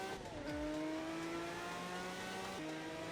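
Jaguar XJR-9 LM race car in a VR driving sim, its engine droning steadily at high revs, dropping in pitch through gear changes with a brief downshift, loud and continuous.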